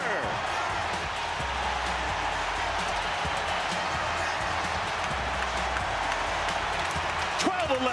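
Wrigley Field crowd roaring after a Kyle Tucker home run for the Cubs against the Diamondbacks, a dense sustained stadium din filling the whole stretch, with a broadcaster's voice over it.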